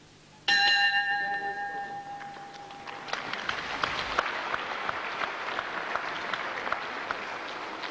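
A round bell clangs sharply at a professional wrestling bout, its bright ringing tone sustained for a few seconds before crowd applause swells and continues loudly.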